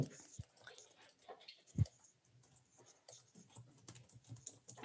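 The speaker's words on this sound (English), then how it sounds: "I hear typing" Soft, irregular typing on a computer keyboard, light key clicks and taps pattering along quietly with a few louder knocks.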